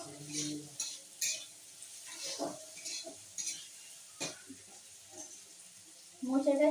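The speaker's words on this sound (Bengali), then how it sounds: "আলুটাও পেঁয়াজের সঙ্গে ভালো করে ভেজে নিচ্ছি।" Potato and onion fry in a pan with a faint sizzle, broken by repeated scrapes and clinks of a spatula stirring, and a louder clatter at the end.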